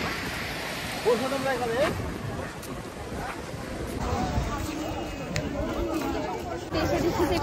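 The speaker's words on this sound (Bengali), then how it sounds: "ঢেউ আর হাওয়া জাস্ট ওয়াও" Sea waves and wind at Digha beach at night make a broad, continuous rushing roar, with voices talking over it throughout.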